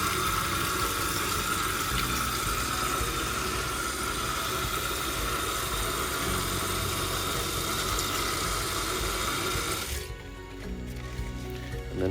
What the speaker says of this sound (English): all I'm doing here is washing them to get rid of the river soil